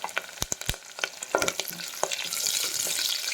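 Five green chillies dropped into hot oil for a spicy green tomato chutney, first giving sharp crackles and pops, then settling into a continuous close sizzle.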